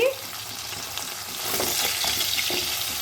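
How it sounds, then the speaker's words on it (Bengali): Bata fish frying in oil in a pan gives a steady, close sizzle with a soft crackle, growing slightly louder partway through and continuing without a break. "মাছটা ভালো করে ভেজে নিয়েছি"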